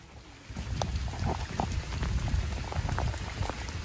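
Heavy rain pours down steadily at a horse stable, a dense patter and splashing of drops hitting surfaces close by, no talking.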